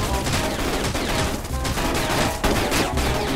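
Rapid bursts of gunfire from the battle-royale game Rules of Survival crackle loudly and continuously, with fusillade-like volleys and sharp repeated shots overlapping across the whole stretch.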